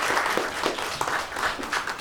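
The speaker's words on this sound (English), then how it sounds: "we should clap for her" Workshop audience applauding a colleague named Petronila, steady moderate clapping from a room of people, slightly uneven in rhythm.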